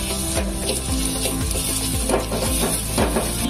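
Chicken pieces dropped into a pan of hot oil with fried chopped garlic, sizzling loudly and continuously while being stirred, close up with no talking.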